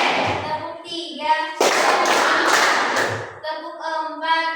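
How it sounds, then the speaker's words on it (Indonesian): A classroom of children claps hands in a counted warm-up rhythm: a dense burst of clapping in the middle, with children's voices and talk before and after. "Tepuk 1, tepuk 2,"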